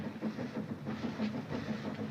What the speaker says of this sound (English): Train's coming, Mom. Just heard her whistle for the station.